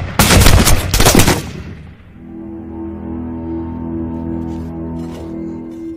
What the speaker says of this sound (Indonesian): pimpinan kepolisian memberikan aba-aba untuk melepaskan peluru